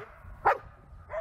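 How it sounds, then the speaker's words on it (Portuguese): A young municipal guard police dog in training gives a single sharp bark on command, close and fairly loud, followed by a softer yip or whine. "Tem inclusive aquele que estimula o cão a latir apenas para intimidar."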